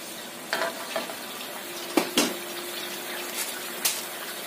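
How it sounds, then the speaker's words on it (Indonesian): Chicken in sauce with hot water added simmers toward a boil in a pan, a steady bubbling sizzle broken by a few soft stirring knocks, close and without speech. "Tambahkan setengah gelas air panas. Kita masak sampai mendidih."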